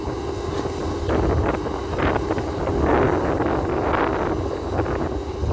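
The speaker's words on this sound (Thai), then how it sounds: "บรรยากาศก็ลมแรงนิดๆนะครับ" Strong wind gusting across a worksite with an SK120-3 long-boom excavator, heard as a continuous rumbling buffet against the microphone that swells and eases, with no voices.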